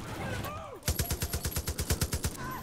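A rapid burst of about a dozen evenly spaced gunshots rings out in the video game Far Cry 5, loud and punchy, preceded by ambient game sounds.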